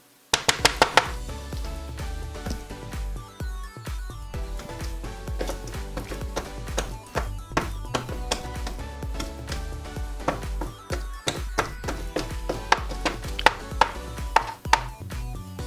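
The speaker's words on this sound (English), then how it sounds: "I just like to go hell for leather on the chopping board." Beef for Thai stir-fried basil is chopped finely on a chopping board with fast, loud, continuous knife strikes close up, in rapid bursts throughout.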